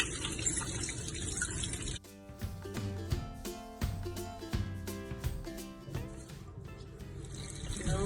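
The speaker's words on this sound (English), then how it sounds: "I'm going to wash my hands" Hands being washed under a running kitchen tap, steady splashing water close by that shifts to a fuller stream with gurgles and trickles, with no voices.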